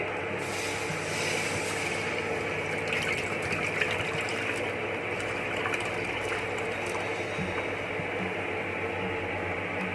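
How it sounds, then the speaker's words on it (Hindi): Water gushing steadily into a large cooking pot set on the stove for corn, a continuous loud, even filling rush lasting the whole stretch with no voices. "इसमें हम पानी डाल लेंगे"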